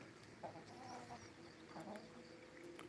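Chickens clucking faintly in a farm yard, with short low calls scattered across a steady outdoor background hiss, somewhat distant.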